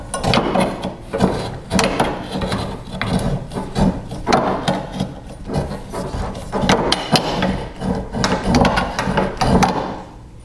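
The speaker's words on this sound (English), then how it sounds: "this is my first attempt at using this as a conduit reamer." Knipex 09-12-240 lineman's pliers ream the inside of a conduit pipe, producing continuous close scraping and grinding in a rough, repeated twisting rhythm, with fairly loud rasping strokes and no talking.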